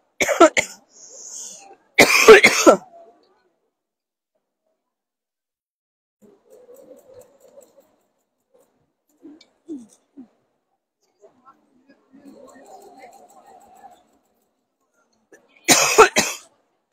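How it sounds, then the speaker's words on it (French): A few harsh coughs break out near the microphone, separated by long stretches of near silence with faint, quiet sounds in between. "Alors, si je vous tousse dans les oreilles avec le micro,"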